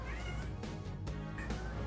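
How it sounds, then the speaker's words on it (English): A pet cat meows for treats indoors, a few soft vocal calls rising over a steady low background hum and game sounds, with no talking. "Oh, you can hear my cat. She's making sounds. She wants treats."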